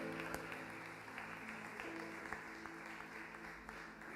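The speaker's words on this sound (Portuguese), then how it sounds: "Vamos aplaudir o Senhor" A church congregation applauds together in steady, continuous clapping that holds moderately loud throughout, with no voices standing out above the crowd.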